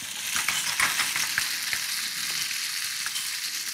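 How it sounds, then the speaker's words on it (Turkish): Food frying in oil in a pan on a home kitchen stove, a steady close sizzle with scattered pops and crackles and faint utensil stirring, no voices over it. "burada güzelce bu bir kızarıyor efendim"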